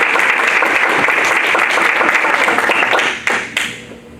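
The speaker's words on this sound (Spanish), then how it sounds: "Regálaselo ese aplauso al Señor" A church congregation gives loud, dense applause during a sermon, sustained for about three seconds before breaking off into a few scattered claps.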